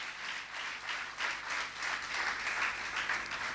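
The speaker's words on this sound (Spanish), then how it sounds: "dale un aplauso al Señor" Church congregation at a Sunday service applauds in praise, a sustained, fairly soft patter of many hands clapping at a steady level with no speech over it.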